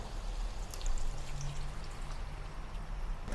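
Water pours steadily into a cooking pot of tomato, fish cakes and baby corn nearby, a gurgling, splashing flow with small drips and bubbling, and nobody talking.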